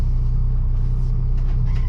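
A bus being driven, heard from inside as a loud, steady low engine rumble and road noise with a faint higher whine, continuous and without talk.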